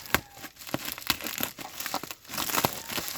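Plastic packaging around an ORZ combination retro street fighter helmet is cut open with scissors, giving close, irregular crinkling, tearing and crushing bursts with no talk.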